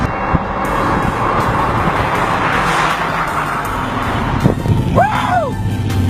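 A 2-litre, roughly 200 bhp car on a test drive roars steadily from inside the cabin, its engine and road noise holding a constant loud level, with a brief rising and falling whine near the end.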